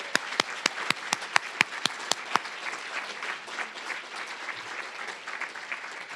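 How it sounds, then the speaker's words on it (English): A crowd breaks into applause, starting with a few sharp, distinct claps that quickly swell into steady, full clapping. "If you would give them a huge round of applause."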